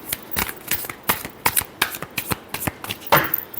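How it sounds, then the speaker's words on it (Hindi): Tarot cards being shuffled by hand: a quick run of crisp, close riffling flicks and soft slaps, steady and fairly loud, ending in a fuller burst of card noise, with no talking. "Last shuffle."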